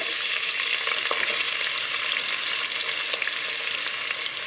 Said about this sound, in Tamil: இப்போ பார்த்திங்கன்னா வெங்காயத்தை ஆட் பண்ணிக்குவோம்.